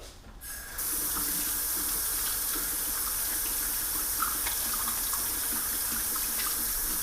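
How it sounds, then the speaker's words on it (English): A kitchen tap runs steadily into a sink as hands are washed beneath it, a close, continuous splashing gush that starts abruptly and holds for several seconds without talk. "now let me wash my hands."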